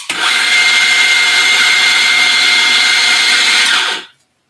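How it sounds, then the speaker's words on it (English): An espresso coffee grinder runs loud and close as its grind size is adjusted, a steady high-pitched whir lasting about four seconds before cutting off abruptly. "I'm going to turn on the grinder here and then adjust really quickly"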